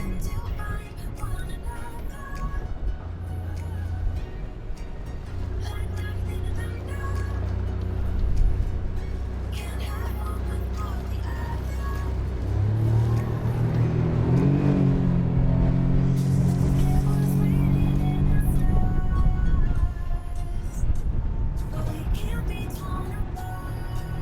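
Viyaboat Teodora 4.90 SLN motorboat running at full throttle at sea, a steady loud engine drone and hull rumble swelling in pitch midway, with someone talking over it at times.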